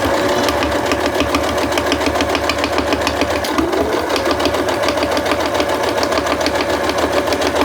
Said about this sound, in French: On va l'attacher de part et d'autre et la piquer à 2 mm de chaque côté